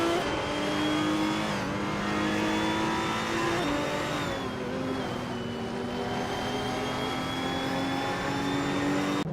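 Maserati MC12 GT1 race cars in a racing video game, engines droning and revving continuously with shifting pitch as the pack runs close together, steady and fairly loud with no talking.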